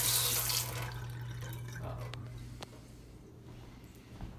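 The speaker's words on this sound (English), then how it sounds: "the kitchen sink here when you like turn it on. One, the pressure's not good" A kitchen sink tap with low water pressure runs, hissing loudly for the first half second, then settling into a thinner, quieter stream with a couple of small clunks and splashes.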